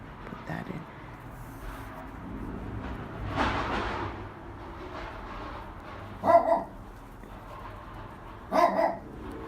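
A dog barks indoors during pin loom weaving, two short clear bursts of barking several seconds apart, with quieter rustling and handling noises in between.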